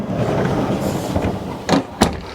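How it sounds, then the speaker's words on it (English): A solid privacy door in a 2018 Newmar Bay Star Sport 2903 Class A motorhome swings over a steady background hum, then latches with two short, sharp clicks near the end, close and fairly loud. "Nice, solid privacy door. It latches open and closed,"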